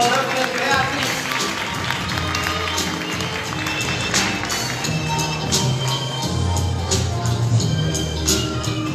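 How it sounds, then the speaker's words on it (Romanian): Audience applause at a theatre fashion show for the Blue Bird Collection in Brăila, sustained crowd clapping with sharp irregular hand claps nearby, mixed with voices talking over and under it throughout. "De aplauze și pentru tehnicii meu, vă rog"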